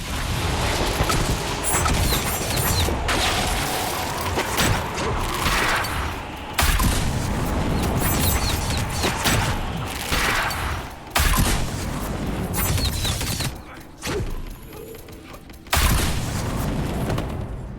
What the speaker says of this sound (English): them exploding in poison mist when you kill them